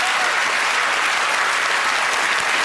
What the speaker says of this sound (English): A round of applause for our model